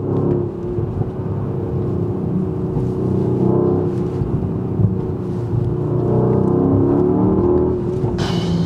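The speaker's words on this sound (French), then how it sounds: "Mais elle a déjà les retours d'échappement." Mercedes GLE 63S AMG from 2020, already modified, with a steady engine drone and exhaust rumble throughout, irregular crackles and pops over the exhaust note, and a brighter burst near the end.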